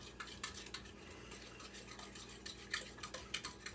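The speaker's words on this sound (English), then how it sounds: "because I want to break these eggs up a little bit before I put the milk in" A spoon clinks and scrapes against a bowl while breaking up eggs for pumpkin pancakes, a quiet run of rapid light taps and stirring strokes close by.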